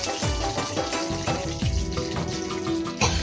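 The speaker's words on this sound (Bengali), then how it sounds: "তেল গরম হয়ে গেছে, এখন মরিচ দিচ্ছে, ভাজি করতেছে" Chili peppers dropped into hot oil and frying, a dense crackling sizzle with repeated sharp bursts and stirring scrapes, close and steady throughout, no talk.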